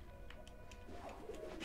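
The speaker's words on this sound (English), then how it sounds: "Now there's a bird." A pigeon-like bird coos in the video game Ori, a few soft, low coos over a steady background ambience, fairly close and alone.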